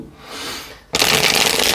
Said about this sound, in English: I'm gonna give this one more shuffle